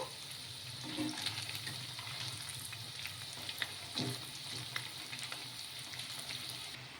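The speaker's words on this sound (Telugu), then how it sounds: "ఇలా మధ్య మధ్యలో కలుపుకుంటూ గోల్డెన్ కలర్ వచ్చే వరకు అయితే ఫ్రై చేసేసుకోవాలి" Leftover rice and moong dal bondas frying in hot oil give off a steady, moderately quiet sizzle with soft crackles and a brief stirring scrape, with no talk.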